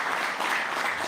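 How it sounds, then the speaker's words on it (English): Applause from a crowd at a western Canadian campaign event at Trail Tire Tamarack in Edmonton, a steady wash of clapping at moderate volume for just over a second. "Let's give him a round of applause."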